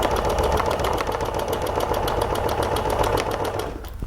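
Janome MC 11000 sewing machine stitching ruler work, a steady fast mechanical needle chatter running continuously and close, easing slightly at the very end.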